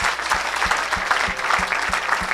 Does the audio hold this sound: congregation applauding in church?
yes